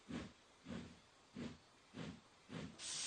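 Rhythmic bursts of steam chuff from a locomotive, five evenly spaced puffs, then a sharper, sustained hiss at the end.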